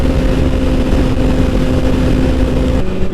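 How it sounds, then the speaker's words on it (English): A Kawasaki Ninja ZX6R 600cc sport bike's exhaust roars loud and close at high revs while riding at speed, a steady droning howl with a slight shift in pitch near the end. "You're not going to hear anything over that exhaust when you get into that rev range"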